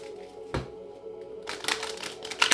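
A deck of tarot cards shuffled by hand, with a sharp riffle flutter partway through and a denser burst of papery snapping toward the end, close and clear.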